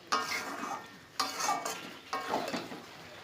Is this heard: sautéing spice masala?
yes